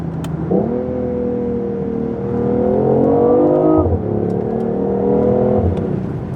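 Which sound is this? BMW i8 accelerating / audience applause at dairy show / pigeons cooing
BMW i8 accelerating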